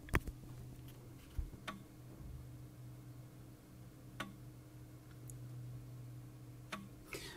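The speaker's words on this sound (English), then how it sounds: "That noise is it checking for the presence of a disc." An Amiga A600 floppy drive clicking as it checks for a disk, with faint, sparse ticks at irregular intervals over a low steady hum.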